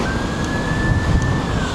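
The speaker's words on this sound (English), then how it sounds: "It's either the police or an ambulance." A steady, continuous police or ambulance siren tone holds over loud rumbling highway traffic, sounding fairly distant and unchanging through the short stretch.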